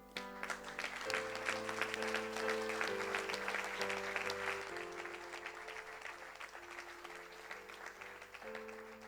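A church congregation applauds steadily during a Sunday worship service, the clapping loud and continuous over sustained keyboard or organ chords.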